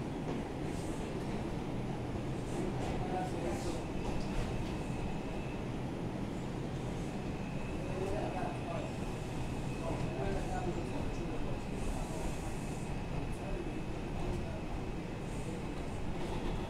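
An R142 subway train on the 2 line, Wakefield-bound through the Bronx, rumbles and rattles steadily from inside the car, with a continuous loud roar of wheels on track.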